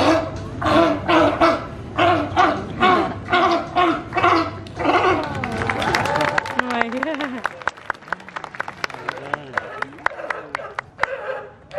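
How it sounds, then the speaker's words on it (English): A series of hoarse, rhythmic sea lion barks repeats loudly at an aquarium show, then gives way to scattered clapping and crowd murmur with a few lower barks. "they were demonstrating the typical barking or roaring noise that you're going to hear from a sea lion"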